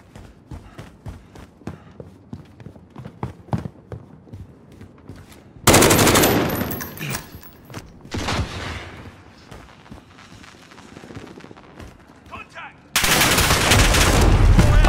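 Video game gunfire as a whole magazine is emptied at a jet: scattered single shots and footsteps, then two long, loud, sustained bursts of automatic fire that drown everything else.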